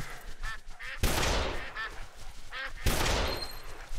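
Ducks quacking and honking in the Duck Dynasty hunting game, several calls spread across the stretch, with two sharp loud shotgun blasts cutting in and ringing out.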